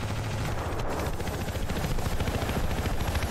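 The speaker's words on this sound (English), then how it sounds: "Is this used to shoot down choppers?" A helicopter flies in the Ravenfield video game, its loud rotor thrum pulsing steadily amid bursts of rapid gunfire, everything dense and close throughout.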